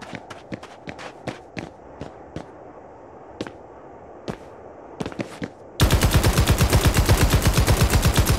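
Game gunfire in Cure Light Classic Mode: scattered single sharp shots over the first half, then a sudden dense, loud burst of rapid automatic fire running steadily to the end.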